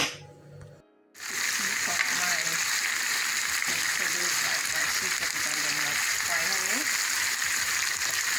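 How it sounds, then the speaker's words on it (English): Steady, loud sizzling of Jamaican ackee and saltfish frying in a pan fills the clip after a brief quiet start, with a voice talking faintly underneath. "Smelling nice, they're frying"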